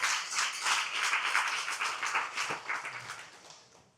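A crowd at a municipal election campaign meeting in Morne-à-l'Eau keeps up dense, energetic clapping that gradually thins and fades toward the end.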